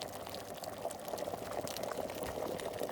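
Water boils at a rolling boil during maple sap syrup-making, a steady close bubbling and gurgling hiss with dense popping, continuous and fairly quiet with no voices.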